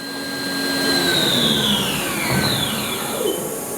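A 2012 Haas VF3YT vertical machining center runs nearby, with a loud, steady whine as its two-speed spindle gearbox shifts. Descending and rising tones sweep through the mechanical hum, and no one talks.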